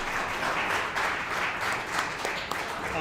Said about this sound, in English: Can we clap it up again for these gentlemen